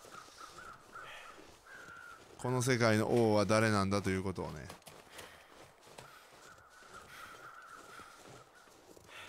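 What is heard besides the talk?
crows cawing in the video game The Long Dark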